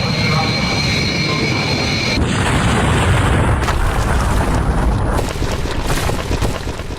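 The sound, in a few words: airplane crash animation, takeoff and crash into building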